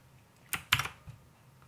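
A few crisp keystrokes click on a Royal Kludge RK61 compact keyboard with blue switches, a quick cluster of sharp taps close by in an otherwise quiet room.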